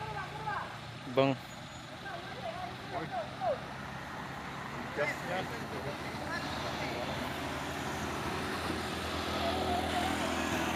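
A loaded vegetable truck labours up the steep Bukit Kodok climb at Setinjau Lauik, a low rumbling engine drone running throughout with brief sharp bursts from onlookers' voices above it.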